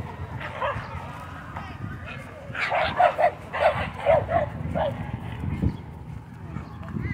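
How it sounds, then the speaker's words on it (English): Little dogs fighting and barking at a dog park, a burst of several quick yappy barks and growls in the middle distance, with people talking nearby before and after. "Little dogs are getting into it over there."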